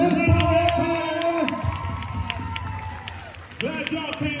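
A crowd cheers and claps for a dance team at a dance battle, a continuous roar of applause and whoops with an amplified announcer's voice booming over it.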